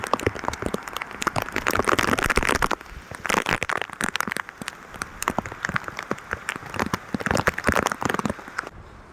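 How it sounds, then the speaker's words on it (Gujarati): Heavy rain patters hard and close on a surface, a dense crackling downpour with constant sharp drops that surges and eases slightly. "અત્યારે ફૂલ વરસાદ ચાલુ છે"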